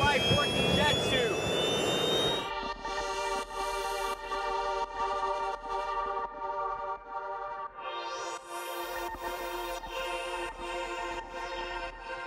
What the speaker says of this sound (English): this is a real-life working jet suit